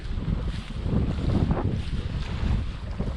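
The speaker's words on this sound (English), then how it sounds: "It doesn't really help that the wind's flying at us there" Wind buffets the microphone outdoors beside water while fishing, a loud continuous rumble with gusting surges throughout and no talking.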